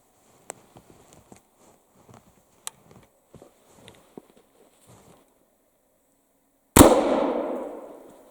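Antique 190-year-old cap gun fired once, a sudden loud close blast with a long decaying rumble, after scattered faint clicks and handling noises.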